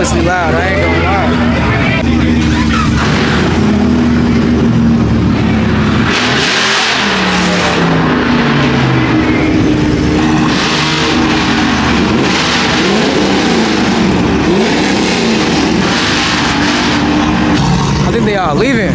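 A Mitsubishi Evo revs hard and very loud at a car meet, with repeated surging engine pulls close by over a babble of crowd chatter.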